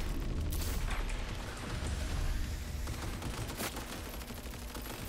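Sustained gunfire from Cyberpunk 2077 during the Phantom Liberty DLC, a dense loud barrage of rapid shots and booms filling the whole stretch with no talk over it.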